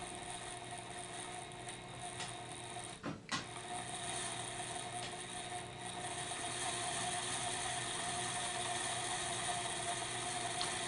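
A small motor spins a Norvise fly-tying vise with a faint, steady mechanical whir and gear hum, broken by one brief knock near the start, close and quiet throughout.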